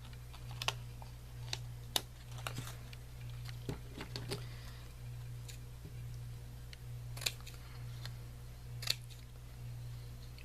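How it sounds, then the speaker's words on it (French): Scissors snipping scrap paper for a handmade card, quiet sharp cuts coming in irregular clusters with pauses, close but faint over a low steady hum. "Donc là, on va le couper."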